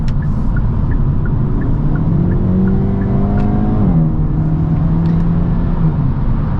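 A 2022 Hyundai Elantra N engine in eco mode revs up steadily, its pitch climbing and then dropping as it shifts, loud and close with wind rumble underneath.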